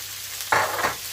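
Spring onions hit red hot oil on a steady background sizzle, bursting into a brief loud hiss and crackle that surges twice, close by without speech.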